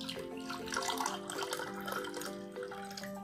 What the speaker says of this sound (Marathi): एका काचेच्या ग्लासामध्ये अर्धापर्यंत पाणी घ्या।